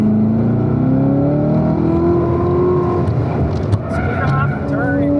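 Car accelerating on a race track during a driving school session, its engine droning loud and steady with rising tones, heard from inside the cabin while an instructor talks over it.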